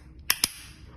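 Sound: LEGO rubber band gun shooting

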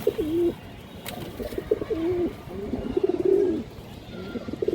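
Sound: pair of Khaki pigeons cooing

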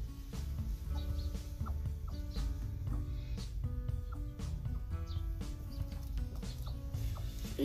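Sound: Aseel hen clucking while sitting on duck eggs

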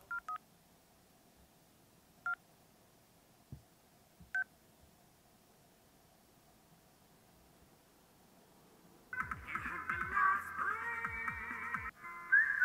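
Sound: phone ringing

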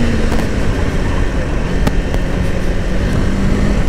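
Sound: Kawasaki Ninja 500 motorcycle engine revving high

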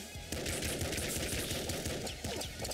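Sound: slugger shotgun firing in video game Nuclear Throne

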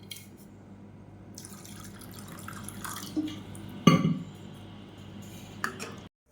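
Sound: water being poured into a pot

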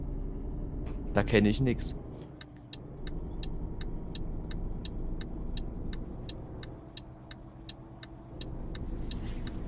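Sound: truck driving in Euro Truck Simulator 2 video game

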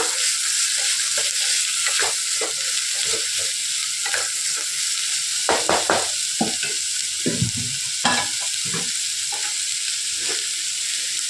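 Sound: vegetables sautéing in a pan for veg kurma

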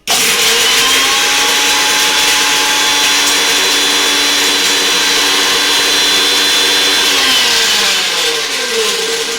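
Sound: mixer grinding cashew nuts into paste

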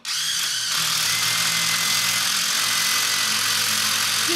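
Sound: impact driver hammering, Dewalt Atomic or Milwaukee brushless

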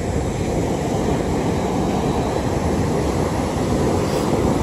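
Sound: ocean waves at the water's edge

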